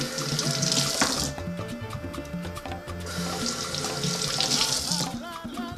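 Tap water runs steadily into a sink while Fuji apples are washed under it, a continuous close splashing stream with faint handling noises and no talk.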